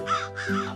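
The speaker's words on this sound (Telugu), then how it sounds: "ఆ పిల్లిని చూసి పక్షి పిల్లలు భయంతో అరవసాగాయి" Frightened bird chicks cry out from a tree as a cat climbs toward them: two harsh, raspy caw-like calls, close and loud, with no other sound around them.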